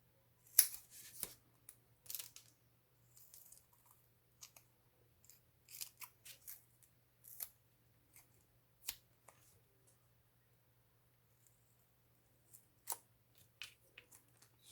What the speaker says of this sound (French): Je vais venir découper le petit bout qu'on garde.